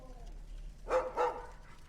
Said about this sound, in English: Those are nice looking dogs.